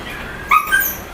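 A stray puppy on a staircase whimpers in two short, high, thin cries close by, heard over a steady background hiss.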